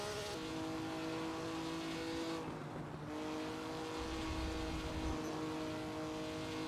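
A race car engine in a racing video game at Bremgarten drones steadily with harmonic tones, briefly dropping as the throttle lifts before revving back up, with a low rumble near the end.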